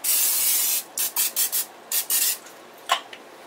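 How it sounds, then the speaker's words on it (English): A long hiss of aerosol cooking spray into a crock pot, followed by several short bursts and a couple of faint final puffs, close by with no talking. "go ahead and spray your crock pot"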